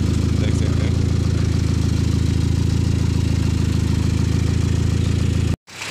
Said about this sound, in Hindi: अभी ये जो गुट गुट आवाज़ आ रहा है, ये साइलेंसर बैठाया नहीं गया